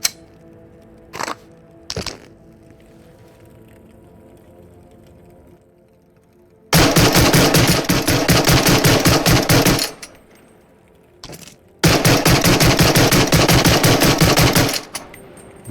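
Rapid automatic pistol fire from a G18 in the VR shooter Into The Radius, two long sustained bursts of fast rhythmic shots, loud and close, preceded by a few isolated clicks and handling sounds.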